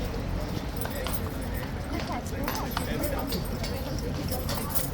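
Hooves of a large King's Guard horse clip-clop on pavement amid a busy crowd, a steady irregular clatter mixed with a dense murmur of voices and general bustle.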